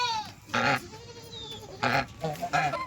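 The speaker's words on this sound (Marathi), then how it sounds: "तर आपल्या अजून शेळ्या वाजवत आहेत त्या बघा" Goats bleat in three loud, short calls spaced a second or so apart, close by, with quiet farmyard background between them.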